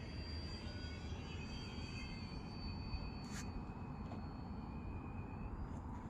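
A small electric RC Cub model airplane, powered by a 2200 mAh 3-cell LiPo, hums steadily through the air with a thin whining motor and propeller tone, fairly distant and even over a constant outdoor hiss.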